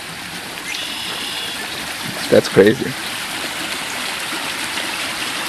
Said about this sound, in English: I've never seen the water go into that so fast.